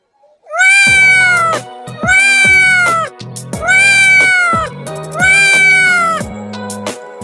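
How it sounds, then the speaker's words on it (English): A cat meows four times in a row, each call loud, close and drawn out with a rising-then-falling tone, separated by brief pauses. "C for cat."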